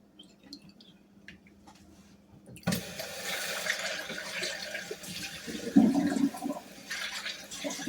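Tap water runs steadily while a strainer mesh is rinsed clear of pork butt injection residue, starting suddenly after a quiet stretch and splashing louder partway through.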